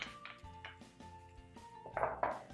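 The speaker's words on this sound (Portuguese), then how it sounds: "Vou colocar a colher aqui de lado" Metal spoon clinks against a dish on a kitchen counter during recipe prep, a few light taps and a brighter double clatter near the end, close and alone.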